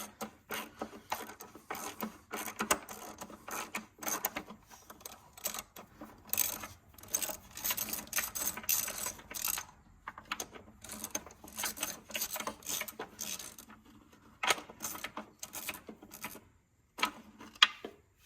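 Rapid clicking of a ratchet loosening spark plugs on a 2013 Dodge Journey 3.6L SXT AWD, close and crisp, coming in quick bursts separated by short pauses.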